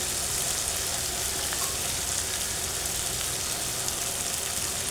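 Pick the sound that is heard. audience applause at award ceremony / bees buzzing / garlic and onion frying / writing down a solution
garlic and onion frying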